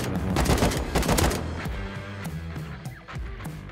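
Rapid bursts of gunfire in the survival game Rust, with dense loud cracks clustered in the first second and a half, then sparser shots and clatter fading into quieter game ambience.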